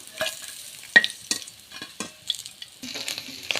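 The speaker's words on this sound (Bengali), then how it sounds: "তো চলো মাছটাকে ভেজে নিই" Fish pieces fry in mustard oil in a home kitchen karahi, giving bursts of sputtering sizzle and spatter with brief pauses between, close and fairly loud.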